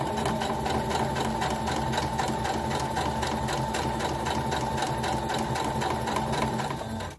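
A domestic sewing machine runs steadily, stitching quilt fabric pieces in one continuous, even whir with a fast mechanical rhythm that stays loud and close throughout before stopping abruptly at the end.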